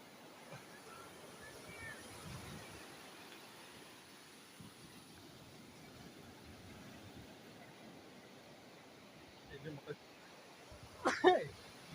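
At a beach by the sea, a single sharp sneeze bursts out near the end over a low wash of waves and wind, after quiet background chatter.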